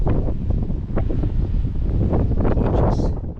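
Wind roars continuously across the microphone at a Colma, California cemetery, a loud, dense buffeting rumble with no pause.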